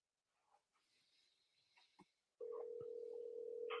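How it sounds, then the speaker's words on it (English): A phone dial tone sounds on a call placed from a smartphone app: faint shuffling first, then a loud, steady, unbroken tone that holds to the end. "I'm going to give her a call"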